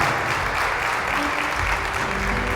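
Steady, dense applause from a congregation at a Catholic Charismatic Renewal conference, a continuous even wash of clapping filling the hall with some faint background voices mixed in.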